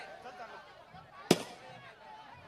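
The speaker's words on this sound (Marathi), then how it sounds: "खऱ्या अर्थानं पाहू शकलो फटाक्यांची आता आतिषबाजी" One sharp firework bang bursts out at a tournament prize distribution ceremony, a single loud crack over a steady background of crowd murmur.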